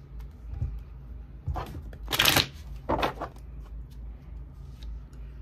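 Tarot cards being shuffled during a reading, heard as a few short riffling bursts, loudest near the middle, separated by quieter handling noise and with no speech.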